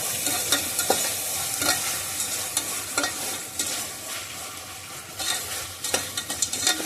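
Tomatoes with salt sauté in a pan for chicken biryani, giving a bright, steady sizzle broken by repeated scraping strokes of a spoon stirring against the metal.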